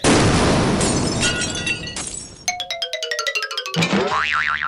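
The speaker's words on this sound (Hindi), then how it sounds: "धमाका सिंह ने जो ही बटन दबाया तो उसकी गाड़ी के चीथड़े उड़ गए" A cartoon blast as a car blows up: a loud burst with crashing debris, then a string of springy boings and a wobbly warbling tone.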